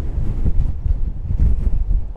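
Strong wind gusts batter the microphone on a pontoon by the water, making a loud, continuous rumbling buffet that swells and eases, with no voices.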